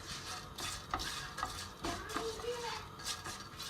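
Barley vermicelli frying in sunflower oil is stirred in a pan, with a steady sizzle and repeated scraping strokes of the spoon, close and moderately loud, as a first step toward rice pilaf.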